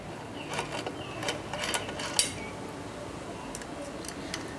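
Ratchet loosening a turbo oil breather bolt, faint quick clicking bursts at irregular intervals over a quiet workshop background.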